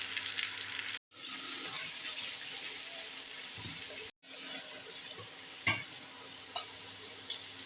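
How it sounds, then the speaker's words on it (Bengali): Drumstick vegetables and potatoes fry in a pan with a steady, moderate sizzle that cuts out twice for a moment, punctuated by occasional stirring scrapes and clinks. "এখন এই সবজি এবং আলুটাকে আরো কিছুক্ষণ ভেজে নেব।"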